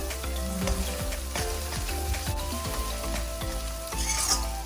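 Chicken kothu parotta sizzles and fries loudly on high flame in a pan, with a steady hiss broken by repeated scraping and stirring strokes throughout.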